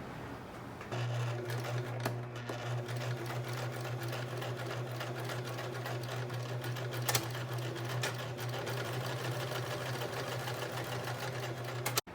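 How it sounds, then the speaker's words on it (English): A sewing machine runs steadily for about eleven seconds, stitching down the folded raw edges of a halter top's triangle neck piece, with a close, even motor whir and rapid needle clatter and no voices. "I'm simply going to fold in the raw edges and sew that seam down"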